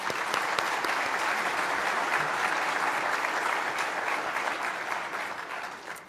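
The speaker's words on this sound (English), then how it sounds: "Please join me in a well-deserved round of applause for our wonderful volunteers" Steady applause from a conference audience honoring event volunteers at an opening plenary session, a dense, continuous clapping that holds evenly for about six seconds before easing slightly at the end, with no speech over it.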